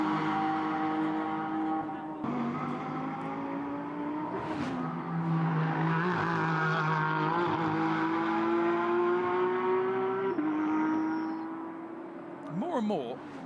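GT4 race cars on a walled street circuit in Beijing, engines revving and shifting up and down with a steady high whine as they run close, loud and continuous, with a brief squeal near the end and talk underneath.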